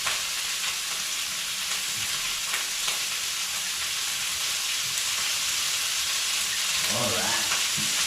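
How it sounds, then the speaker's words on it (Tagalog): Meat frying in a pan with added cooking oil, a dense continuous sizzle and crackle held close and steady throughout, with a few faint knocks near the end. "dagdagan natin ng kunting mantika"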